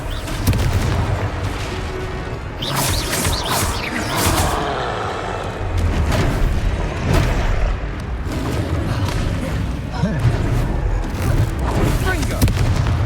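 Repeated Confringo blasting curse explosions in Hogwarts Legacy combat, loud booms and fiery bursts recurring every couple of seconds through a chaotic battle, with voices calling out at intervals.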